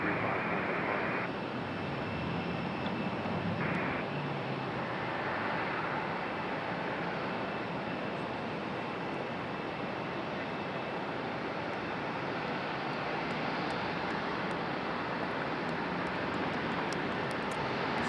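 A plane at Raleigh Durham International Airport gives a steady, broad engine roar that holds loud and unbroken for the whole stretch, with no talk over it.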